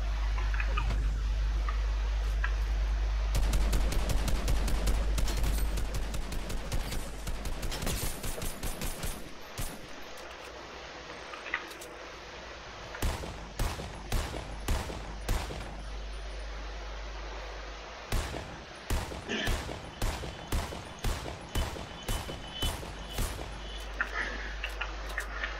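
Gunfire in the Fortnite battle royale game, played during a match: bursts of rapid shots in clusters, then sharper single and spaced reports over a steady low game hum, fairly loud throughout.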